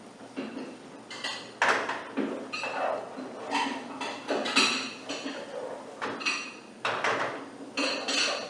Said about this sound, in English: scramble them a little bit while they're cooking. In other words, just stir them around